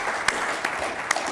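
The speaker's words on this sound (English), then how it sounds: "So I just want to give them all a round of applause again" Brief audience applause at a conference session, a short burst of clapping with a few distinct claps standing out over a dense patter.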